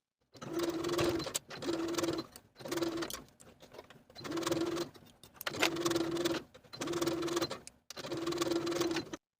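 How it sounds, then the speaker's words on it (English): A sewing machine zigzag stitches cardigan hems in seven bursts of rapid whirring, each about a second long with short pauses between. The sound is close and steady, with faint bird cooing behind it. "Then I'm going to sew my hems in place just using a zigzag stitch."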